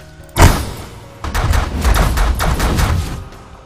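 Ship weapons firing in The Last Federation space strategy game: one heavy thud, then a rapid, uneven string of loud impacts and shots, close and dense for about two and a half seconds.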